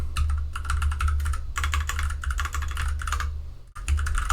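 Rapid typing on a computer keyboard while entering kubectl commands, dense bursts of close key clatter with brief pauses between runs, no voices.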